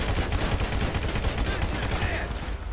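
Rapid gunfire in the video game Grand Theft Auto V, a dense, continuous burst of shots loud throughout and fading near the end.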